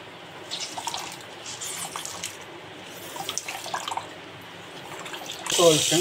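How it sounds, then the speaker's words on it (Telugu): Water squeezed by hand out of fresh paneer wrapped in thin cloth, a soft trickling and splashing into a sink-like basin that builds to a louder gush near the end, with faint background noise throughout. "మనం బాగా ప్రెస్ చేసి వాటర్ అంతా తీసేయాలి ఫ్రెండ్స్."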